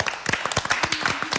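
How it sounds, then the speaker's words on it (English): A small group claps on a podcast set, a quick run of sharp, close handclaps lasting just over a second. "We just clapped"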